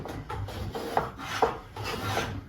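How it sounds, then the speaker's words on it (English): Cooper's joiner planing the edge and angle of a wooden barrel stave, giving repeated rough rasping strokes in a steady rhythm, each drawn pass scraping along the wood at moderate level in a workshop. "using the Cooper's joiner to put the edge and the angle on his stave"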